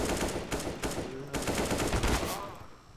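Rapid bursts of gunfire in CS:GO, a dense run of sharp shots in quick succession with brief gaps, at moderate loudness, tapering off near the end.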